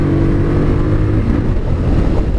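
A Harley-Davidson Street Rod 750 engine with stock exhaust drones steadily at cruising speed, its low exhaust hum loud and constant, mixed with road and wind rush.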